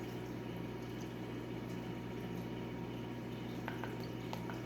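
Soy sauce poured into coleslaw already dressed with oil and rice vinegar, a steady, faint liquid trickle over a constant low hum.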